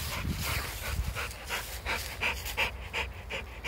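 An American Staffordshire Terrier pants rapidly and steadily, close by, with quick rhythmic breaths continuing throughout, during rope tug play.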